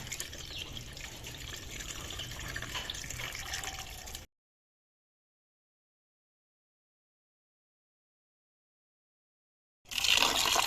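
Water runs from a tap while mutton lungs are washed, a steady splashing flow that cuts off into silence for several seconds before resuming briefly at the end.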